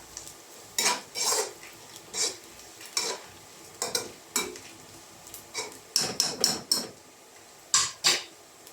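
Rava being stirred and roasted in a pan for upma, with repeated scraping and clinking strokes of a spoon against the pan in an irregular rhythm, close and fairly loud, with no talking.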